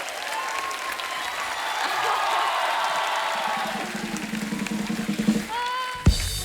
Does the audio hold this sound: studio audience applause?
yes